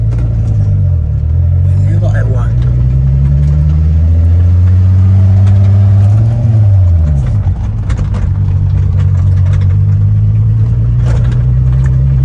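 Car engine in a racing video game revs and shifts gears, the pitch climbing, dropping and climbing again in steady sweeps, loud and close, with a voice talking over it.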